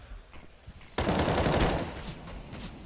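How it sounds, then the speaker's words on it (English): Automatic gunfire from a Counter-Strike match at a professional esports major, with a sudden loud burst of sustained rapid shots after a quieter opening, continuing near and dense to the end. "he actually pushes down where the gunfire was coming from"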